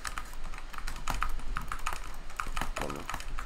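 Typing on a computer keyboard fitted with new keycaps, a steady run of quick, fairly close clicks and clacks with uneven rhythm and no talk.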